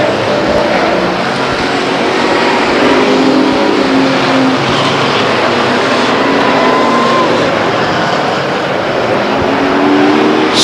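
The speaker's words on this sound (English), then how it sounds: "In fact, losing against Treadway, who crosses for the 17th lap." Race cars roar past on the Stockton 99 Speedway oval during a lap, a dense, continuous engine blare with rising and falling pitch from passing cars, heard at a distance through crowd-level ambience.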